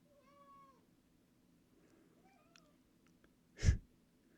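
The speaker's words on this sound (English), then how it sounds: "my cat's meowing in the background" A cat meows a few times in the background of a kitchen while potato salad is being made, faint and distant, followed by a brief louder knock or bump.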